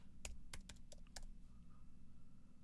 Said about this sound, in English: let's go ahead and type in here, wizard